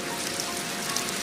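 Steady, dense rain pours down in a film scene, a continuous even hiss with no voices over it.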